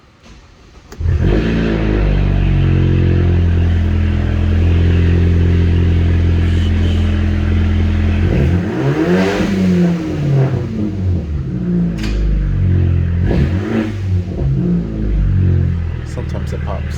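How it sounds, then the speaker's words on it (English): A 2015 BMW 328i engine fires up from cold after a new thermostat install, catching with a short crank and settling into a loud, steady elevated idle with a few revs and rattles, close by and heard alone. "Let's hear that cold start."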